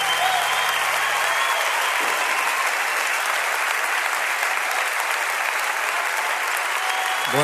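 Sustained audience applause at a live concert for a performer, a dense, loud wash of clapping filling the hall for several seconds, with a few brief voices at the start.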